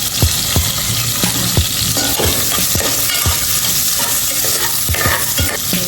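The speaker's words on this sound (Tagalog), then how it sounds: "Lagay natin luya, sibuyas, bakit ang mantika." Ginger and onion frying in cooking oil, a loud continuous sizzle close up with repeated utensil knocks and scrapes against the pan at an irregular pace, no talking.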